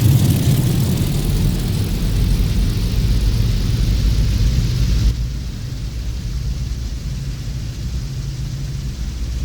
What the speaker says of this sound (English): Very simple plane to start up.